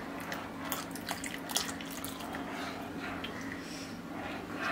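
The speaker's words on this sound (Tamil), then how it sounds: "இதை வந்து கொஞ்சம் கொஞ்சமாக இதில் ஊற்றி பாருங்க" Dissolved custard powder mixture poured gradually into boiled milk in a pan for mixed fruit custard, a soft steady liquid trickle and splash running throughout, close and moderately loud with no talk.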